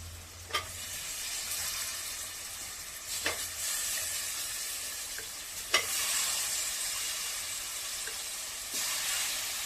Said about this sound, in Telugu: ఇప్పుడు ముందుగా మనం కట్ చేసుకున్న వంకాయ ముక్కలు వేసుకోవాలి